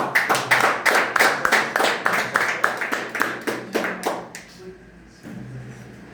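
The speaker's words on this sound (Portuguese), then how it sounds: "Vamos aplaudir bem forte." A church congregation claps loudly in a fast, even rhythm of sharp hand claps that weakens and stops after about four seconds, leaving a quiet room.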